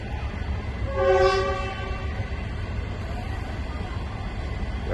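A train horn sounds once, a single sustained blast, over a steady low rumble of rail noise, from the first train arriving in Laos.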